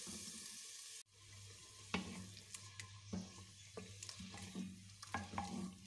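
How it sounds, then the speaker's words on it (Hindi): Tomatoes with salt, red chilli powder and turmeric frying in a quick-heating pan on low flame for a cauliflower and potato curry, a steady sizzle broken by repeated stirring scrapes and clinks. "ये देखिए टमाटर भुन रहे हैं"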